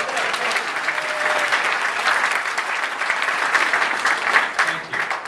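An audience at a film panel bursts into steady applause at the mention of makeup artist Dick Smith, a dense wash of clapping throughout, moderately loud with crowd murmur underneath.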